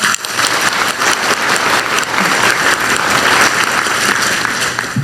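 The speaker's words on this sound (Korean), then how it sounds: "먼저 과감한 투자를 결정해 주신 세 분께 다시 한번 격려와 희망 박수를 부탁드리겠습니다" Sustained, loud applause from a large audience at a government investment announcement event, dense overlapping hand claps forming an even roar that holds steady throughout.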